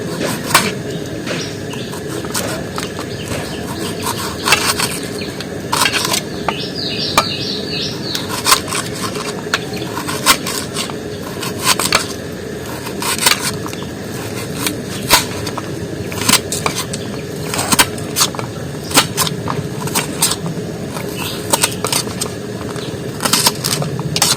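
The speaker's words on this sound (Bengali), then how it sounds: "পেঁয়াজটা কেটে নিচ্ছি" A knife cuts through an onion, giving a long run of crisp, irregular clicks and taps against a cutting surface over a low background hum, close and fairly clear, with no talking.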